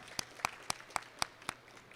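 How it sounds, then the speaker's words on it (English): Faint, evenly spaced claps, about six sharp hand slaps a quarter second apart, at a Constitution Day 2019 event, thin and distant rather than a full roar of applause. "Give yourself a round of applause."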